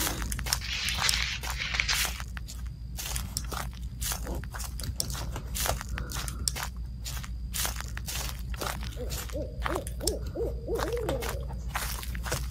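An owl hoots repeatedly in a dark forest in the Slender Man horror game, heard over crunching footsteps on the ground and a low ambient drone.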